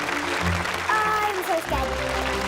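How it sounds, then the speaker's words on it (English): An audience applauds the competitors at a televised contest to find Australia's brightest child, steady clapping close by that carries on under a voice talking over it. "Let's have a huge round of applause for all the competitors."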